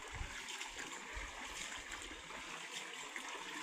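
A small stream flowing over stones, a steady, fairly quiet wash of trickling and gurgling water with no talk.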